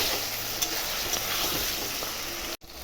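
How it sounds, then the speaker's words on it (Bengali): Spice paste of ground ginger, garlic and chili sautéing in a pan gives a steady, close sizzle with faint scraping stirs, running evenly before cutting off abruptly near the end. "মশলা দিয়ে এখন ভালো করে একটু কষাবো।"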